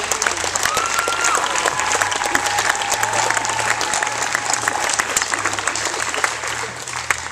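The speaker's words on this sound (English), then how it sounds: "Now please thank with your resounding applause your parents and all those who care so much for you" Graduation audience at an Elmira College ceremony breaks into loud, sustained applause, a dense wash of many hands clapping steadily throughout with crowd murmur and a faint voice underneath.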